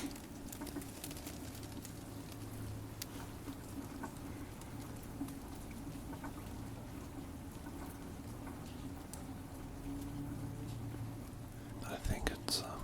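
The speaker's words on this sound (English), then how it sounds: "what you can hear is the rain coming off the trees" Rain dripping and pattering off trees during light rain in the bush, a steady soft patter that runs the whole time under quiet whispered speech.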